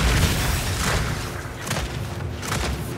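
A frag grenade detonates in Gears 5 Horde mode on the Turbine map, a deep, loud boom with a rumbling low thud that rolls on under the ongoing battle noise.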